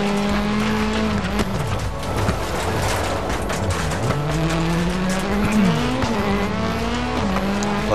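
A Mitsubishi Space Star rally car racing in the video game Dirt Rally 2, engine howling at high revs with repeated pitch drops at gear shifts, tire squeal and gravel noise, loud and continuous without talk.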